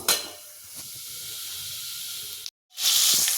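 Tomatoes and onions frying in a pan for tomato chutney give off a steady, fairly loud hiss that cuts out briefly and then returns stronger and brighter.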